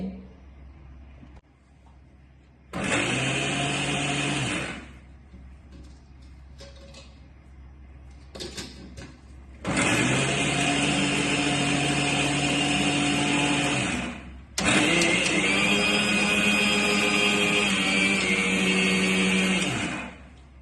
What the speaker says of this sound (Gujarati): આ બધી સામગ્રી છે તે મિક્સર જારની અંદર ગ્રાઇન્ડ કરી લેવાની છે.